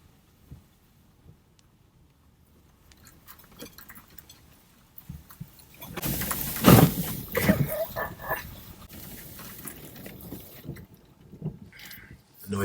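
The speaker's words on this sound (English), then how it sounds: "The noise from the car was the sound of me scraping bottom" A Volkswagen Golf scrapes its underside on a rough forest road high in a park, starting quiet, then a loud grinding, scraping burst midway that tapers into rattling knocks and rumble.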